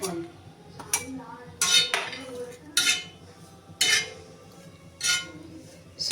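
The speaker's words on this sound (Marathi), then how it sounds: "ह्याला बिना तेल टाकता सुकं सुकंच भाजून घ्यायचं" Grated dried coconut dry-roasted in a pan with no oil, heard as a series of sharp clinks and scrapes from a utensil stirring against the pan at irregular intervals, fairly close, with no talk.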